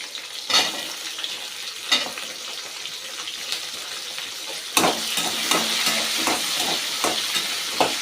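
Small onions with green chilli and ginger sauté in oil in a pan for mint chutney. A steady close sizzle is broken by spoon scrapes and taps, and it grows busier and louder midway.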